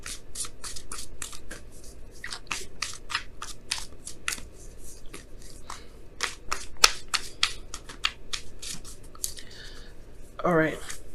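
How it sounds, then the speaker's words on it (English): Oracle cards are shuffled by hand in a quiet room, giving a rapid series of soft, close flicks and riffling clicks, with a brief burst of voice near the end. "let me go ahead and pull your Wisdom of the Oracle card for the week."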